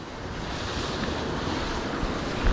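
Steady wind blows hard at the seaside during lure fishing from the shore, a constant broadband roar mixed with surf and microphone buffeting, with a brief stronger gust near the end.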